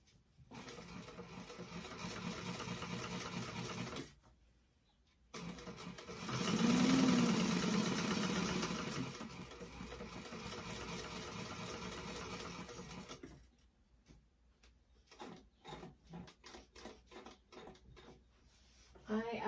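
A sewing machine stitches a fabric bag in long continuous runs, the motor whirring strongly with a brief stop for turning, then gives way to short stop-start bursts and clicks; a voice speaks softly at times.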